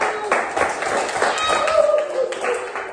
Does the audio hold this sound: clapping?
yes